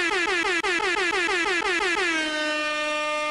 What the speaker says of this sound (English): Or just make an air horn pop up each time